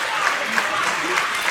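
Wrestling crowd in Broadheadsville cheering and applauding steadily throughout, a dense wash of clapping and voices urging a downed wrestler back to his feet.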